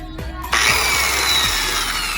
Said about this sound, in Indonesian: Ini lubangi dulu menggunakan alat gergaji triplek, ini namanya jigsaw.